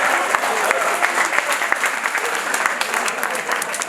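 A room of guests at a mother's birthday gathering breaks into steady, dense applause after a speech, loud and close, with some voices mixed into the clapping.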